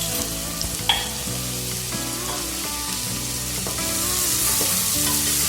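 Onions lightly frying in oil for paneer biryani, a steady close sizzle that grows a little louder toward the end, with a sharp utensil tap early on and faint stirring underneath.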